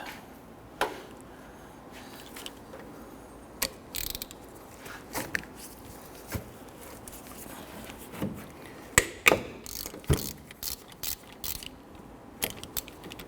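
A ratchet works the lower brake caliper bolt loose on a 2006-2014 Honda Ridgeline during a front brake job, giving scattered bursts of sharp metallic clicks, close up, with quiet gaps between the strokes.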